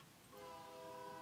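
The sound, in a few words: train horn in the video game The Stillness of the Wind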